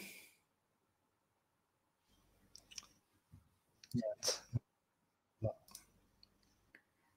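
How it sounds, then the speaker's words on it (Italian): A few sharp, quiet clicks spaced irregularly, with soft mouth noises and breathing nearby in an otherwise quiet room. "Io sento i click del mouse e vedo che stai procedendo."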